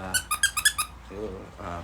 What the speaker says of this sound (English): Oh, this squeaks too.